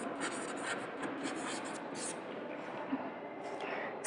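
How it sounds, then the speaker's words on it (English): A marker squeaks and scratches across a classroom board as a word is written, a quiet run of short strokes with small taps, heard alone with no voice. "I'll write the species here"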